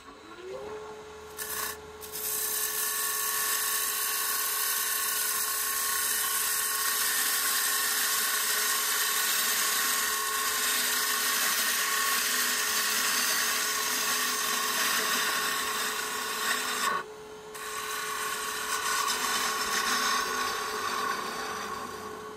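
A wooden bowl face is sanded on a spinning lathe, giving a steady, loud abrasive hiss with a constant motor hum beneath, running nearly unbroken apart from two brief interruptions.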